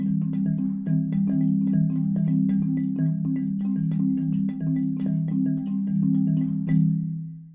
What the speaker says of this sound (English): These chords boil down to an 18 to 22 to 27 polyrhythm